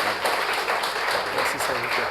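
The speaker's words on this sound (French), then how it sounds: "On va applaudir le Céleste déjà dans la vie." A church congregation applauds together in a dense, continuous burst of clapping that fills the room, with voices mixed in under the applause.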